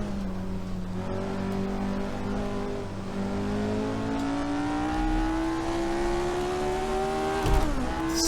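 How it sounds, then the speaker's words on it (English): A Ford Cosworth race car engine in the game Assetto Corsa drones loudly and steadily at Silverstone, its pitch climbing gradually before a sharp shift near the end, with no talking. "The sound of this engine is something else,"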